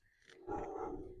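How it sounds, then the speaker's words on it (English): A dog barks in the background, a single brief, muffled woof that sounds somewhat distant and fairly faint. "If you can hear my dog barking in the background"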